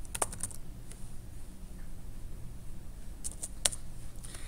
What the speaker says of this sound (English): So I'm going to type in my work,